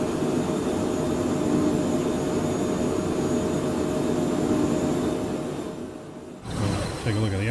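Continuous jet engine roar of a Phenom 100 private jet in a flight simulator game, loud and steady before fading briefly and giving way to a quieter hum with faint voice-like sounds.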